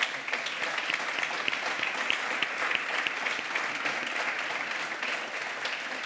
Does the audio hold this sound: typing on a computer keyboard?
no